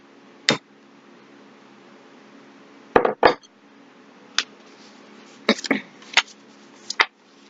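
Cooked broccoli tipped from a container into a mixing bowl in a home kitchen, heard as a series of sharp, close clinks and clatters against the bowl, spaced irregularly over quiet background.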